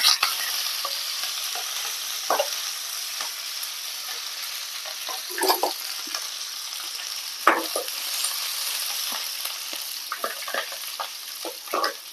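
Chopped shallots and curry leaves sizzle in hot oil for a potato mappas tempering, a bright continuous crackle close by with scattered sharper pops and spatters throughout, no voices.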